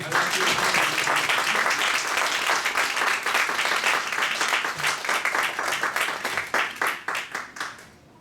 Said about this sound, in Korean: 우리 목사님 나오실 때에 환영의 박수로 오늘 우리 말씀을 받도록 하겠습니다